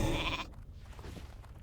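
Sheep bleat from a polymorph spell in World of Warcraft, a single short nasal bleat up close, mixed into game sound effects.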